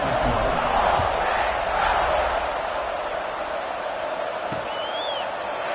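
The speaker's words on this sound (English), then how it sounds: "this crowd now ready to get behind them" Football stadium crowd at an Ole Miss game roaring before kickoff, a dense sustained wall of cheering with a faint whistle near the end.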